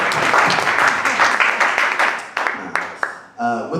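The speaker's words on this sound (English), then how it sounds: "we're having a big applause for that. For the poetry" A poetry slam audience claps for a poem in a lively burst of applause that thins into scattered claps, after which a voice starts speaking at the very end.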